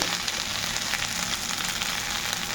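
Spices, ginger and garlic sizzle and fry steadily in a hot pan while being sautéed for a rohu fish curry with mankochu (giant taro), a continuous close crackle with no voices.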